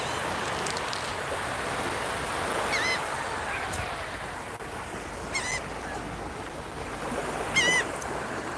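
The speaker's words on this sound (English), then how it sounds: "You can hear the seagulls in the background." Seagulls at the seaside in Cape May, New Jersey, with several distant, faint calls scattered over steady surf and breezy outdoor ambience at sunset.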